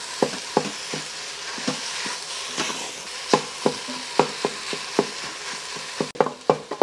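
Turkey browns in an Instant Pot, a steady sizzle broken by frequent sharp clicks and scrapes of stirring, close and moderately loud with no talk.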